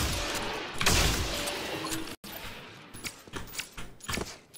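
Heavy Marshall sniper rifle shots in Valorant, a few sharp loud cracks in the first half, then a cluster of quicker, lighter clicks and bursts, with no talk.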